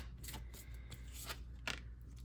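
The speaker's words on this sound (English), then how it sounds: "Again, you can skip if the shuffle is too much." A deck of tarot cards is shuffled close up, with quick soft riffling and flapping bursts repeating over about two seconds, fairly faint.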